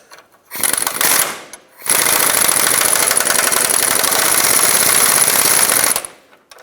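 Impact wrench with a 24mm socket tightening control arm bolts on a 1996-2002 Toyota 4Runner: a short rattling burst, then a longer loud continuous hammering run close by.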